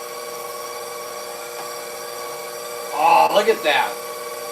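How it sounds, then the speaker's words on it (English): An electric meat grinder grinds halibut for sausage, with a steady droning motor hum throughout. A voice briefly speaks over it near the end. "let's get the grinder going"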